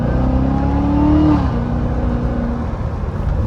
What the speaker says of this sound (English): Let's see if you guys can hear the supercharger.